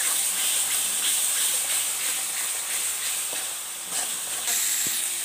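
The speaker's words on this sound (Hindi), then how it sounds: "और इसके साथ ही हम डाल रहे हैं लहसुन, अदरक और हरा मिर्च का पेस्ट। सबको हम साथ में थोड़ा देर भून लेंगे अच्छे से।" Garlic, ginger and green chili paste fries with masala in hot oil for a paneer dish, giving a steady close hiss and sizzle throughout with no talking.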